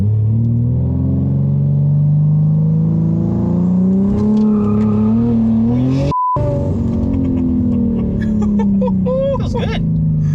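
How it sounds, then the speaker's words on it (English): A 1000HP AWD BMW M3 launches, its engine note rising loud and close from a low rumble through climbing revs, and voices talk over it near the end. "All right, first launch on the new power."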